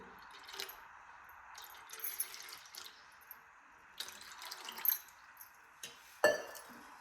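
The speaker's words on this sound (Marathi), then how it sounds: "इथं मी अर्ध्याच तांबे दूध घेतले आता ह्या दोन्हीत पण थोडं थोडं ओतून घेऊ" Milk poured from a copper pot into two vessels, with short trickling and splashing bursts separated by pauses and a few metallic clinks, quiet and close.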